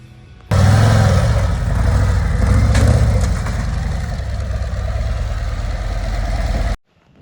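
A 2024 Harley-Davidson Road Glide motorcycle starts up and idles, a loud, deep, lumpy V-twin rumble close by that swells briefly before settling into a steady idle and then cuts off.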